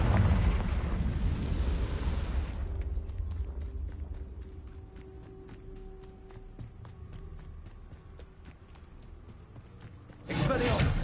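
A blasting explosion from the Confringo spell in the Hogwarts video game, a loud, broad rumbling burst that decays over a couple of seconds, then quieter ticking game sounds and a fresh loud burst at the end; a voice is heard.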